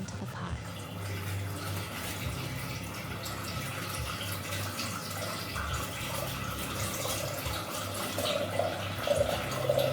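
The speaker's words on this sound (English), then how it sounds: "Just pour water into the pot." Water runs steadily into a cooking pot in a small home kitchen, a continuous trickling pour with a faint low hum behind it, no talking.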